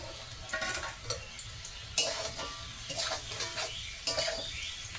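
Soybean curry with chilli and tomato cooks in a pan, with a steady low sizzle broken by repeated scraping and clinking of a spoon or spatula as it is stirred, close and moderately loud.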